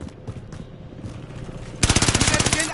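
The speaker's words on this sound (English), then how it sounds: "Someone's shooting at me." Rapid automatic gunfire in Warzone bursts in midway after quieter game ambience, a loud, fast string of evenly spaced shots that keeps going to the end.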